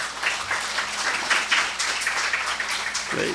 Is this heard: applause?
yes